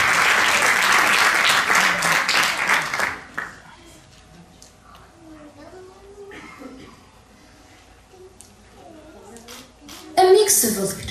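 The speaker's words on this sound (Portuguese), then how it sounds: "Aplausos." Audience applause at a children's arts event marking a children's rights convention anniversary: dense, loud clapping for about three seconds, then quiet with faint voices and small sounds, and a brief burst of clapping near the end.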